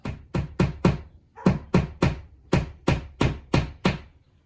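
Rapid sharp hammer blows driving a nail into drywall, a run of four then a pause and a steady series of eight more, loud and close.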